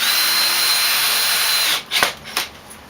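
A power drill drives screws into pieces during furniture assembly, a loud, steady high whir for nearly two seconds that cuts off, followed by a couple of short clicks and bumps.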